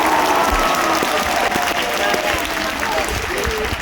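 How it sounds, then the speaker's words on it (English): Convention panel crowd in Sydney breaks into sustained applause, dense clapping and some cheers filling the hall at full volume, steady throughout before easing slightly at the end. "Let's give them a big round of applause."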